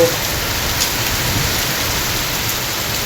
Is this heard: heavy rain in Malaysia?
yes